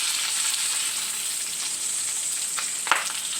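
Bacon fries in a pan over a wood fire, a steady loud hiss of sizzling fat close by, with a couple of brief sharper pops near the end and no talk.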